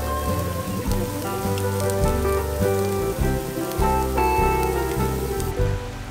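Rain patters steadily onto a surface while someone grills under an overhang at Fort Wilderness Resort, a continuous wash of drops mixed under prominent music.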